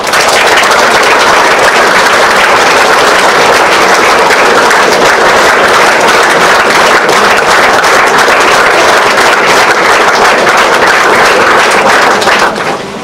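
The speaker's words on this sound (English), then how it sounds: "now let us see what will happen if we clap together" A large group of students claps together in a college classroom experiment, producing a dense, very loud, continuous roar of clapping that holds steady and then drops off at the end.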